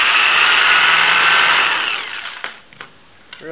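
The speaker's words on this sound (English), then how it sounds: "Drill it." A small drill bit bores holes through a plastic skid for an E-flite CX3 helicopter, a loud steady high whine for about two seconds that winds down, followed by a few short clicks and a brief restart.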